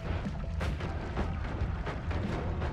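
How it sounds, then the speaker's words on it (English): Deep, rumbling booms from spell explosions in a fantasy video game, layered into a dense, continuous wall of low thuds and bursts with no pause across the short stretch. "You want more gargantuan explosions?"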